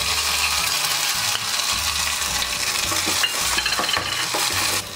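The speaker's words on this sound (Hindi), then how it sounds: "तेल गरम हो चुका है, हम इसमें जीरा डालेंगे और इसमें हरी मिर्च, हरा धनिया, करी पत्ता और जीरा की पेस्ट डालेंगे एक छोटा चम्मच।" Cumin seeds with a green chilli, coriander and curry leaf paste sizzle loudly in hot oil for a fasting thalipeeth, a steady close frying hiss broken by scraping stirs and light clinks of a spoon against the pan.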